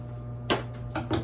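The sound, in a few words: cooking spray sprayed into baking pan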